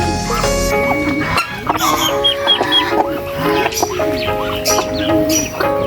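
Native mixed-breed chickens, with a duck among them, cluck and squawk in a busy, close flock before feeding, with repeated overlapping calls and some low rumbling background throughout.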